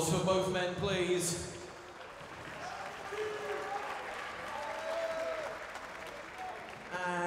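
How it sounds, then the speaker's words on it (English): Ringside crowd applause at an Enfusion kickboxing event in Abu Dhabi after a close bout, moderately loud clapping and cheering that swells at the start, then eases and carries under an announcer's voice. "a big round of applause for both men, please"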